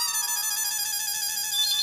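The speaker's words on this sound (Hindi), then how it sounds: "फोन आया।" A phone in an electronics shop rings with an electronic ringtone, a bright, steady warbling tone that carries on without a break and sounds fairly close.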